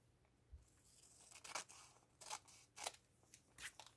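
Scissors snip through folded paper while a pocket booklet is made, a few short crisp cuts spaced irregularly, close and fairly quiet with no talking.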